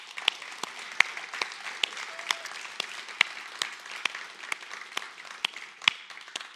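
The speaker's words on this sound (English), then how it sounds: "You have to clap until she gets to the stage." An audience applauds to welcome Julie Johnson at an interview event, a steady mid-sized round of clapping with distinct individual claps standing out throughout.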